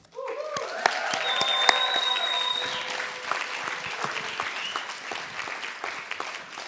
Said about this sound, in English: Let's give them one more big round of applause, please.